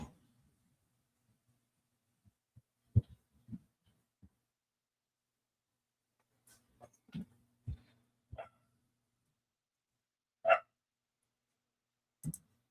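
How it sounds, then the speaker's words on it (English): A puppy barking and yipping indoors in short, scattered bursts, a few single sharp yaps spaced apart with quiet gaps between, fairly close and moderately loud. "Listen to the puppy."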